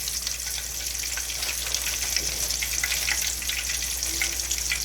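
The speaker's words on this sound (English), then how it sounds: "now I'm just dropping it in some oil" Floured pork stew ingredients frying in hot oil, giving a continuous close sizzle and crackle at moderate volume, with no talk.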